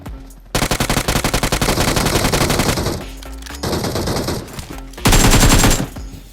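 Automatic gunfire in the PUBG Mobile (BGMI) battle royale game, loud rapid bursts of machine-gun fire in quick succession, one long string of shots followed by shorter volleys and a final dense burst.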